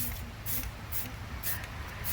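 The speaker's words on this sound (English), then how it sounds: "just light coat spray it right now" An aerosol spray can lays a light coat of paint on a pumpkin in four short, evenly spaced hissing bursts, close and clear over a low background hum.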